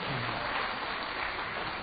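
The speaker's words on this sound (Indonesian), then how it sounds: "tepuk tangan buat istri yang sempurna." An audience claps continuously for a man's wife at an Indonesian religious talk, with a steady, dense applause that is moderately loud and bandlimited, with no speech over it.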